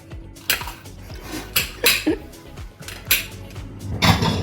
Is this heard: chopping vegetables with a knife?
yes